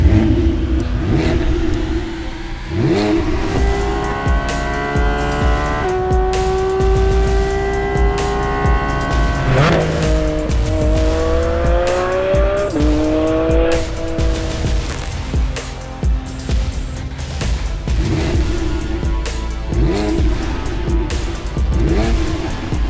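A Porsche Cayman GT4 RS engine revs hard toward a 9000 rpm redline in repeated rising sweeps, loud and close, with a sharp, high-pitched mechanical wail that falls back between pulls.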